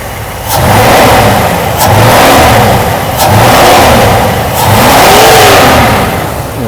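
A Mercedes W126 560SEC V8 engine with its fuel distributor freshly rebuilt, revved repeatedly to high RPM in a series of long rising and falling surges, loud and close, with no talk.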